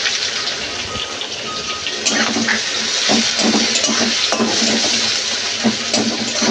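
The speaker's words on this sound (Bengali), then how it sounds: "পেঁয়াজটা হালকা লাল লাল করে ভাজি করে নেব।" Onions frying in hot oil with cardamom pods and cinnamon stick give a dense, steady sizzle and crackle throughout, close and loud, with occasional clinks of a utensil.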